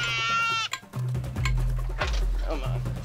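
Two goats in a protective cage bleat loudly and repeatedly at a lion-frequented watering hole, wavering cries up close, with low voices and rustling between calls.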